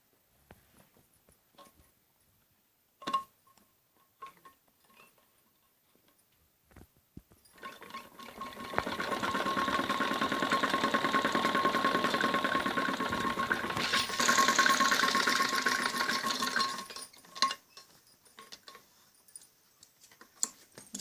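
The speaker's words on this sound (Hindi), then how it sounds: "सिलाई हमें बुकरम के ऊपर लगानी होती है, कपड़े से हटा के" A sewing machine stitches on buckram for a kameez back neck, with a soft continuous whir for about ten seconds and scattered handling clicks before and after, quiet and close.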